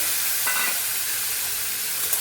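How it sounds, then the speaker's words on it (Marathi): Loud, steady sizzling of cauliflower frying in hot tempering oil, a dense crackling hiss close by with a brief stirring scrape. "फ्लावर काढून घेतलेलं आहे आणि आता लगेच फोडणीमध्ये टाकून घेते"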